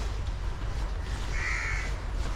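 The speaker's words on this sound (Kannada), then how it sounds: "ಯಾವ ಬೀಚ್ಗೆ ಹೋದ್ರೂ ಇದೆ ಕಾಗೆಗಳು ಕಾಟನೆ" Crows cawing at a beach on the coast near Mangaluru, a single drawn-out harsh caw rising over a low background of wind and surf, fairly close and clear.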